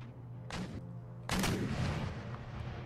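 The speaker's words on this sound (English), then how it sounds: "let me artillery pound him for as long as possible" Artillery bombardment in Empire: Total War: two heavy cannon blasts, the second louder and longer, each a sharp boom that decays into rumble, over a steady background of battle noise.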